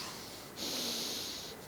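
A person imitates a wife sniffling, giving one short nasal sniff, a breathy hiss that rises abruptly and holds for about a second, close and quiet.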